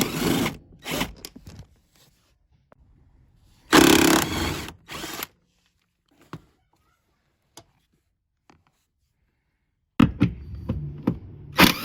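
An impact gun removing the bolts of a car seat in a Mazda 323 fits in several short bursts of buzzing rattle with quiet gaps and faint clicks between them.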